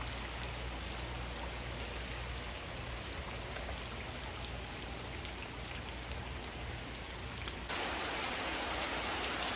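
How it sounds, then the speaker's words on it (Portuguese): Steady rain falls at a country farmhouse, an even hiss of drops striking surfaces close by, continuous and without voices, growing slightly louder near the end. "A chuva começou aqui de novo."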